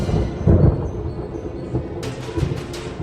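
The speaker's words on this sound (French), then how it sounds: "lorsque gronde l'épouvantable tonnerre" Deep thunder rumbles through an outdoor Christmas light show, rolling low and heavy with swells of loudness, then a sharper crackle near the end.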